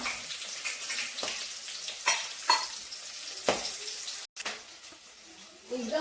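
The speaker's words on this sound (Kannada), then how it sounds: "ಎಣ್ಣೆ ಎಲ್ಲ ಬಿಟ್ಕೊತಾ ಇದೆ. ಚೆನ್ನಾಗಿ ಫ್ರೈ ಮಾಡ್ಕೋಬೇಕು" Ground masala paste frying in oil over a low flame for chitranna with avarekalu, giving a steady close sizzle with occasional stirring scrapes and a brief dropout near the end.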